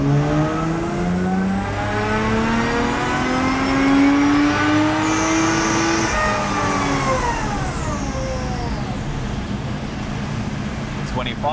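A Lexus IS200 engine revs on a dyno at 50% throttle, its pitch climbing and then easing off while the rollers whine. The sound is loud and close, and a voice talks faintly beneath it.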